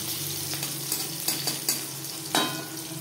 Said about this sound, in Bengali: ফোড়নে দিয়ে দেব গোটা জিরে, আর লাগছে চেরা কাঁচা লঙ্কা।